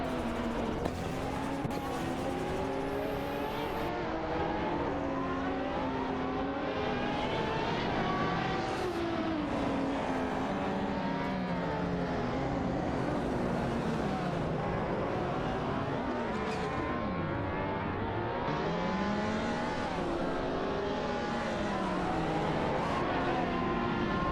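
Several race cars in a video game circuit event roar continuously at close range, engines rising and falling in overlapping pitch sweeps as they jostle and overtake one another, with occasional tire squeal.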